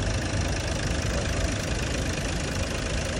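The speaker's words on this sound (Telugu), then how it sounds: "ఇంజన్ సౌండ్లో కూడా చూడండి ఎంత స్మూత్నెస్ వచ్చేసింది" A 12-year-old Hyundai Verna with about 1.3 lakh km runs at idle after a carbon-cleaning treatment, a steady, close engine hum with a slight knocking texture and no speech.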